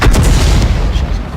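A tank cannon shot in the World of Tanks video game, a loud close booming blast with a heavy rumbling low-end tail that fills the short moment.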